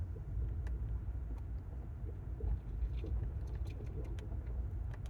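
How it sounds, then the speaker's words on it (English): A car rolls through the potholed streets of a small mountain town, giving a steady low road rumble with scattered bumps and faint rattles throughout, close and continuous. "we're just driving now"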